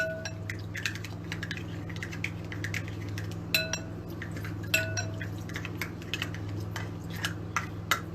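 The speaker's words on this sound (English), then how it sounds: "use your spoon to wash it out" A spoon clinks and scrapes inside a container while it is rinsed out at home, with scattered sharp taps and small liquid sounds over a low steady hum, fairly quiet and with no voices.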